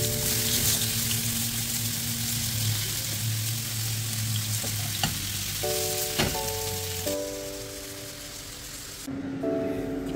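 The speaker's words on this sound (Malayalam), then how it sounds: "അതുപോലെ നെക്സ്റ്റ് നമ്മൾ മീൻ ഫ്രൈ ചെയ്തെടുക്കുകയാണ്." Masala-coated pomfret fries in a pan with a steady, close hiss of sizzling oil. Occasional clinks and soft kitchen sounds break through, and a faint tonal hum shifts in the background.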